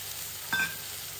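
Bottle gourd peel and cut potatoes dropped into hot oil with dry red chilli tempering, giving a steady hiss of frying with one brief louder sizzle burst partway through.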